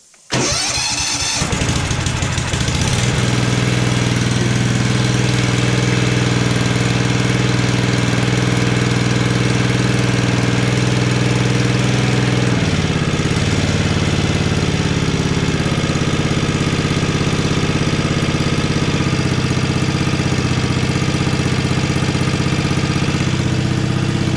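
A broken-down ride-on lawn tractor bought for 200 euros cranks and catches, then runs loud and close with the choke engaged, holding a rough, steady drone whose pitch dips and shifts a few times as it keeps going.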